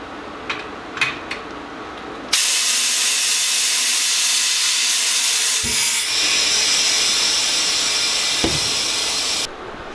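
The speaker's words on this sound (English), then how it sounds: "set the air inflator on the Schrader valve and go ahead and inflate it" An air inflator on a tire's Schrader valve sends a loud, steady rush of hissing air for several seconds, close up. A few metallic clicks come before it and a clunk sounds midway before the hiss cuts off, for a 245/40 R18 tire on an 18-inch wheel.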